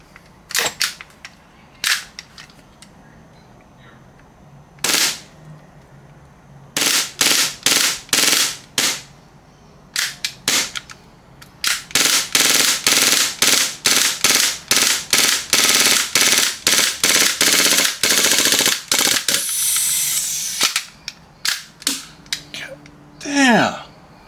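Airsoft Glock pistol firing from a CO2 magazine: a few scattered sharp shots, then a long rapid string of loud, cracking reports fired in close succession, with a brief hissing burst near the end.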